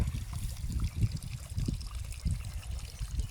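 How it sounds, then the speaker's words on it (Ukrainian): Water flowing outdoors in a small stream, a soft trickling and dribbling with uneven low gurgles, fairly close and without any voice over it. "Водичка тече."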